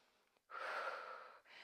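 A deep breath drawn during a standing Pilates leg stretch: a soft intake, then a long, close, steady airy exhale followed by another breath starting, quiet and alone.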